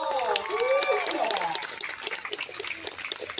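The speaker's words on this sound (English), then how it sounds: "Let's give her a round of applause." A pow wow crowd claps in a round of applause, fairly faint and distant, with scattered claps thinning out after a couple of seconds as voices and an announcer's tones drift over it.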